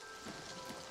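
Steady, faint rain in an Elder Scrolls video game hisses softly in the background, a constant wash of patter with no voices.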